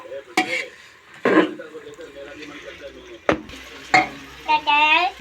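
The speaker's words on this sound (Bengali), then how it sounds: "মাংসটা আমি খুব বেশিক্ষণ কষবো না, হালকা করে একটু মশলার সঙ্গে কষে নেব। মাংসটা ভালোভাবে নাড়াচাড়া করে নেব।" Meat for a cooker biryani being stirred with spices in a pan, a few scraping stirs against a light frying sizzle, close by, with brief voices in between.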